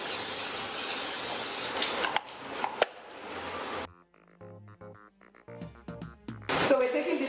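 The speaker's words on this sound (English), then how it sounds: "A little more spray." Cooking oil spray hisses in long, loud bursts onto a lined baking sheet, and a voice speaks between the sprays.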